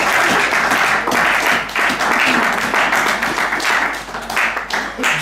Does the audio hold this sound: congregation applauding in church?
yes